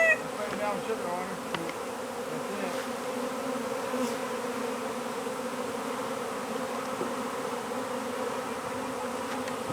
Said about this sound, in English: These bees are everywhere.